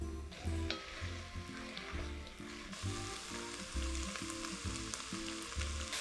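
A steady sizzle of onions sautéing in a pan, with a rhythmic low background pattern running underneath throughout.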